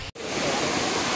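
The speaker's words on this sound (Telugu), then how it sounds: "ఈ ప్లేస్ వచ్చేసి అనంతగిరి వాటర్ ఫాల్స్." At Ananthagiri waterfalls near Araku, in coffee plantation country, cascading water makes a loud, continuous broadband roar, heard close and alone after a brief dropout at the start.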